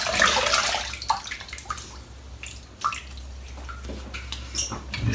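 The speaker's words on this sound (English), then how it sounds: "Now, I'm just going to rinse my face off." Water runs steadily from a tap while someone rinses their face at a sink during a shave, with splashing and a few drips over the continuous flow.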